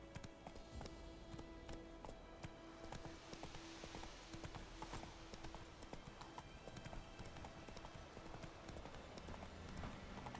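Horse hooves gallop steadily in The Witcher 3 video game, a continuous rapid clip-clop rhythm that runs for the whole stretch at moderate volume, with faint game ambience underneath.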